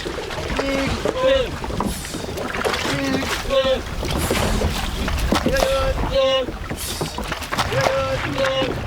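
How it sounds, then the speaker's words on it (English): A motor boat hauls one end of a fishing net at sea, its engine and water noise running steadily beneath continuous talk. "a second boat pulls the other end of the net by motor"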